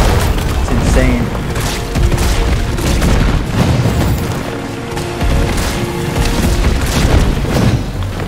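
Pistol fire in the survival-horror game Resident Evil 3 Remake, a rapid string of loud booming shots with crashing impacts, dense and continuous, with some voice mixed in.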